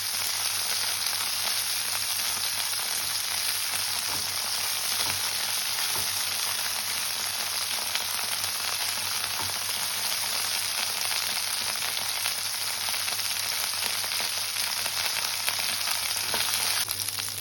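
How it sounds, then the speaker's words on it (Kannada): Potatoes and cauliflower frying in oil for home-style aloo gobi, a steady close sizzle and crackle running unbroken throughout, with faint stirring scrapes now and then. "ಇದು ಆಯಿಲಲ್ಲಿ ಸ್ವಲ್ಪ ಫ್ರೈ ಆಗಬೇಕು ಫ್ರೆಂಡ್ಸ್."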